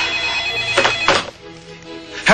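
Telephone ringing indoors, a few loud electronic ring bursts in quick succession with short gaps between them, heard alone without talk.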